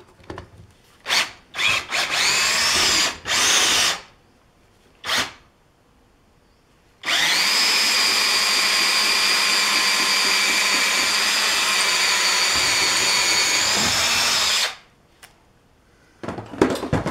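A power tool drives a reamer down through a hole in metal on a sewer slinger build, running for a long steady whine of about eight seconds after a few short bursts and starts.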